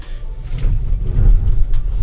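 A Tesla Model Y Long Range Dual Motor climbs a gravel hill under acceleration, giving a loud, steady low rumble with a crunchy road roar and no engine note.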